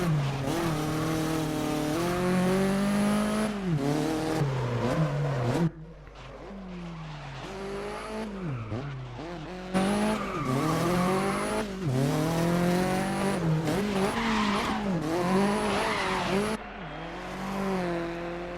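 A Porsche race car in GRID 2019 screams through repeated rising and falling engine revs as gears shift, with tire squeals and skids mixed in, loud and continuous throughout.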